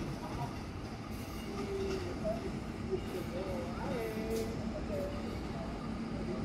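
A train rumbles through Bogor station as a locomotive departs on track 2, a steady rolling rail noise with faint wheel squeals, while a station announcement plays over it.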